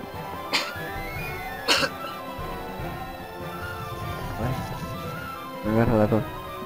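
A person coughs sharply twice during a game recording, then clears the throat and coughs again near the mic, amid low background game sound.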